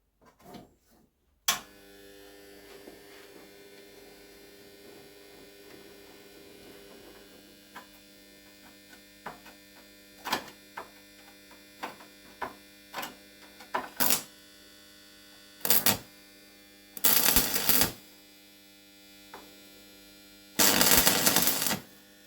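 Electric arc welding on 6 mm steel rebar for a metal sculpture: a steady electrical hum with scattered clicks, then two short bursts of harsh crackling buzz near the end, close by, with no talk.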